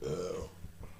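A single loud, drawn-out burp rumbles up during a mukbang eating challenge of fifty chicken nuggets and an extra-large pizza, close to the mic and fading into quiet afterwards.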